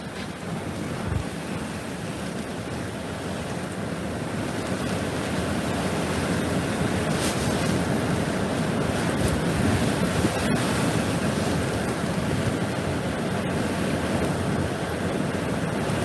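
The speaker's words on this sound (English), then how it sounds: "Here it comes, biggest gust right now. Biggest winds." Hurricane Ian's landfall brings a relentless, roaring wind that buffets the microphone in heavy broadband gusts, steady and loud for the whole stretch with a few sharp clatters breaking through.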